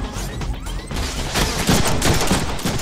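Gunfire in the Deadpool video game on PC, a dense continuous burst of shots and impacts running loud through the whole stretch with no pause.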